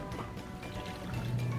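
One cup of water is poured into a pot holding star anise and pork to start a tonkotsu ramen soup base, a steady close trickling splash that rises slightly toward the end.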